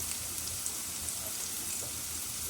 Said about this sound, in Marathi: गरम झालेल्या तेलात कांदा घालायचा आहे